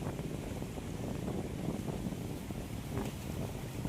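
Wind blows across open farmland in Gujarat, a steady low rushing roar buffeting the microphone throughout, with no voices.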